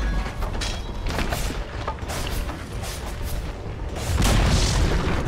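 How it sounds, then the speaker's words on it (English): Tower crumbling in a Dota 2 match, a loud booming collapse with heavy low rumble that swells near the end, layered over continuous battle noise. "Dire's bottom tower has fallen"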